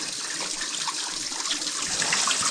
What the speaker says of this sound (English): we appear to have some kind of a pipe outlet there. And it goes down this little waterfall